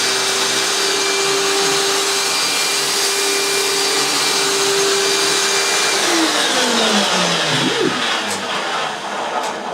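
A vacuum cleaner on its low carpet setting, pushed forwards and backwards over carpet: a loud, steady motor whine and roar throughout, its pitch dipping and swelling slightly with each stroke, with no talking.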